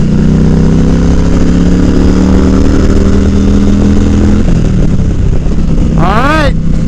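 Yamaha V Star cruiser motorcycle fitted with a car tire, its engine droning steadily and close while riding, pitch shifting as it changes speed, with a rising whine near the end.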